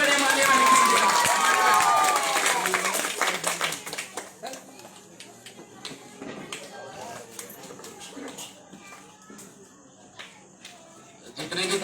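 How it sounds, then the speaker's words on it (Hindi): A crowd at a Bhim Army political gathering in Bulandshahr claps and cheers to welcome a speaker, loudest at the start with a few whistles, then thinning into scattered claps and murmuring voices. "जोरदार तालियों से स्वागत करें माननीय महक सिंह जी का।"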